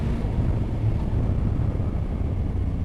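A steady low engine rumble from a 2021 Yamaha Tracer 9 GT with an Akrapovic exhaust, a throaty drone, constant and muffled, as if recorded close while riding.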